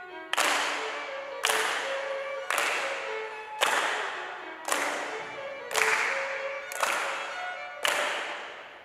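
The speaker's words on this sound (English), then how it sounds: "In the first section of the dance, we stand in place and clap our hands." Folk dancers stand in a circle of couples and clap their hands together eight times in an even rhythm, each clap sharp and ringing with a short decay.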